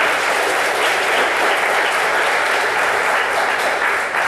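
Sustained applause from a graduation audience at a workforce program ceremony, a dense steady wash of many hands clapping at full volume for several seconds with no voices over it.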